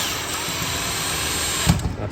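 A cordless drill whirring steadily at close range for about two seconds, with a brief louder burst near the end as it shifts or bites.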